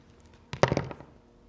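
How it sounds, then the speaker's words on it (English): Quilt fabric cut along a drawn line for half-square triangle sets, heard as a brief cluster of soft, close snips and taps lasting about half a second amid quiet surroundings. "if you just cut along that drawn line"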